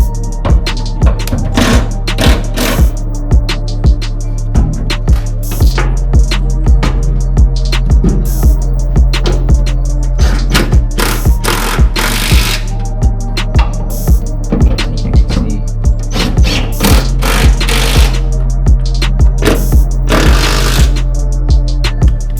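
Power tool bolting a swapped pickup bed onto a 4x4 truck chassis, loud repeated bursts of impact driving in a steady rhythm, close and dominant with no talk.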